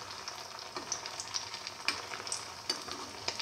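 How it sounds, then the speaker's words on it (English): Chicken, potato and corn flour patties with fenugreek leaves fry in a pan, giving a soft continuous sizzle with small crackles and pops scattered across a few seconds, fairly quiet and close. "let it fry until golden brown"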